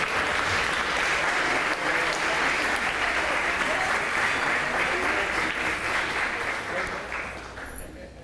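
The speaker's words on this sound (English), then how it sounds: "A round of applause." An audience at a hybrid forum gives sustained, dense applause that stays loud and steady before tapering off toward the end.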